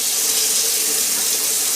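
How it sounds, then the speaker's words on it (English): Water runs steadily from a tap as a head is rinsed in a shaving routine, a close, continuous hiss with no voices. "And then go ahead and rinse your head off."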